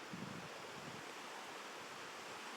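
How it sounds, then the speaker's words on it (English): Running water in the woods, a faint, steady rushing hiss like a nearby stream or small cascade, continuous and alone with no voices. "I do love the water sounds."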